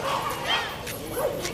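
Large dogs at a city hall dog walk event with many breeds, giving a few yips and whimpering barks over steady crowd chatter and nearby voices.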